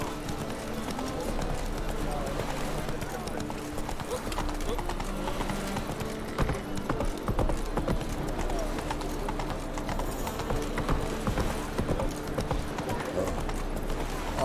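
Roach, Geralt's horse in The Witcher 3, gallops with steady, continuous clip-clopping hooves over a dense game ambience, while a voice speaks over the hoofbeats.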